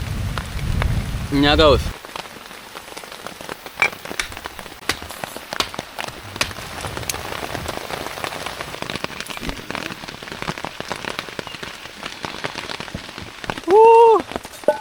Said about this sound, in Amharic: ደረሰ ጋይስ፣ እየዘነበ ነው።